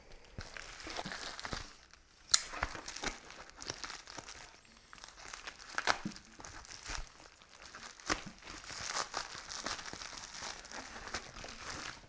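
A mail package is cut open and unwrapped to reach a lens wrap inside, giving close, irregular crinkling and tearing of packaging material that continues in bursts throughout.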